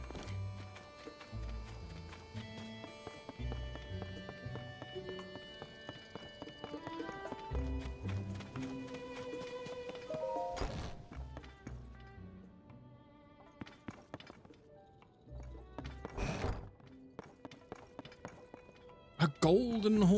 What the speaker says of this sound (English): A golden horse.